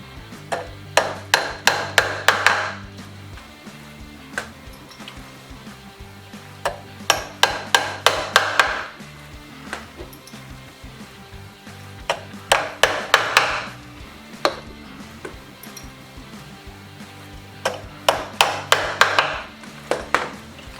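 Upholstery tacks hammered into stretched jute webbing on a chair frame, several close sharp taps in quick bursts of three to six blows, separated by pauses with faint handling noise.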